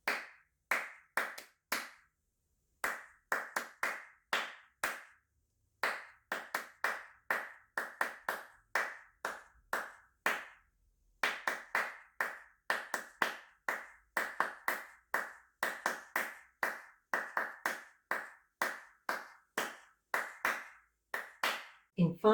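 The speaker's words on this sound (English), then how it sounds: "Look and clap the rhythm of this piece." Hand clapping beats out the rhythm of Handel's Fireworks Minuet as a beginner piano exercise: crisp, close claps in uneven groups with short pauses between phrases, running steadily with no voice.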